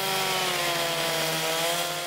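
A chainsaw carving into a wooden log runs steadily at high revs for about two seconds, loud and close with a constant buzzing whine and no talk.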